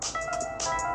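An old Android ringtone plays from a cheap $3 yard-sale smartphone: a short, bright electronic melody of a few quick tonal notes, heard alone.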